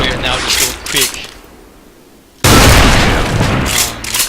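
A sniper rifle fires in the video game SF2, a sudden loud sharp crack with a booming tail that cuts in midway after a quieter stretch, while a person talks around it.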